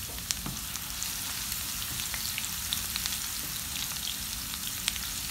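Minced keema with julienned ginger fries in a pan, giving a continuous close sizzle dotted with small crackles and pops, no voices over it.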